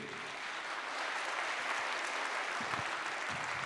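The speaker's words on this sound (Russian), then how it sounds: "Ваши аплодисменты" A concert audience at an army song festival gala applauds steadily, a dense, loud wash of clapping that holds evenly throughout with no pause.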